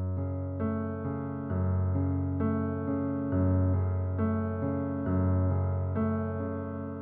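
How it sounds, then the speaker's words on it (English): Piano playing the opening chord pattern of a piece, a steady repeating arpeggiated figure with sustained bass notes, clear and close with no talking. "And then go to the next chord. So the first chord will sound like this."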